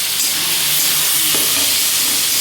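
Vegetables hitting hot oil with cumin in a pan, a loud steady frying sizzle with a brief stirring scrape partway through.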